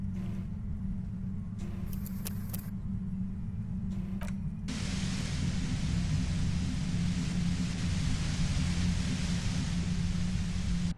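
Harsh, aggressive white noise in the video game Disco Elysium: a steady low rumble that swells partway through into a loud, dense hiss and holds to the end, no speech.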